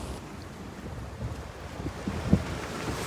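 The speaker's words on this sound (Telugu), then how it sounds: "ఆ గాలి మాత్రం భలే వస్తుంది" Strong sea wind at Kanyakumari buffets the microphone in low, gusty rushes, with faint surf beneath and a brief louder gust near the end.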